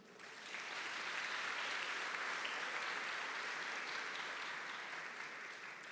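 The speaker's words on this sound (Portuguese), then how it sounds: "Vamos aplaudir o Senhor?" Steady, dense applause from a large church congregation, rising quickly and holding loud for several seconds with no voices standing out.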